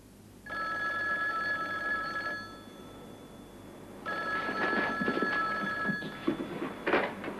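An old-style telephone bell rings in two long bursts separated by a short pause, loud and close, with faint background rustle.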